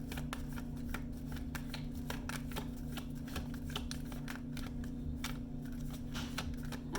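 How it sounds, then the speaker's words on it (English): Tarot cards shuffled by hand, a run of quick riffling flutters and soft snaps repeating over a steady low hum, close and fairly quiet. "Shuffle these cards up real good."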